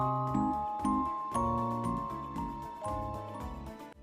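A wooden kit music box, its crank turned to spin the cylinder, plinks out a gentle melody of bright metallic notes with a soft mechanical whir underneath, close and steady.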